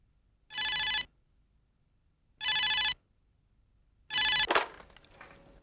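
A telephone rings three times in evenly spaced bursts, clear and close; after the third ring the handset clatters as it is picked up.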